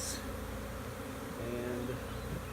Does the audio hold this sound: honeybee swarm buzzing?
yes